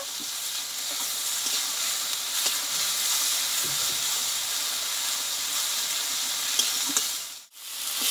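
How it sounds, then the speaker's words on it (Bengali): A home-made spice paste with a pinch of five-spice sautés in a hot pan, giving a loud, continuous close sizzle and hiss that cuts out abruptly near the end. "দেখো মশলাটা আমি একটু ভালোভাবে কষিয়ে নেব।"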